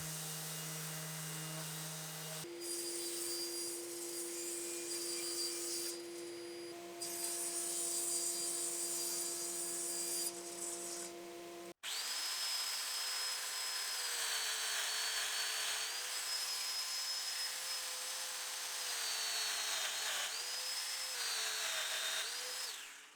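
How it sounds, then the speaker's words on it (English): A power tool cuts mortises in wood for bar stool legs, a high, whining motor that starts, stops and restarts in several passes, its pitch dipping as the bit bites into the workpiece. "I'm cutting these mortises on the widest setting, and I cut the mortises on the tight setting for the seat top"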